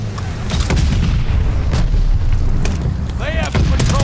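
Bomb blasts from the multiplayer mode of Call of Duty: Vanguard, heavy low booms and rumbling detonations rolling continuously under battlefield noise, with a brief whistling tone near the end.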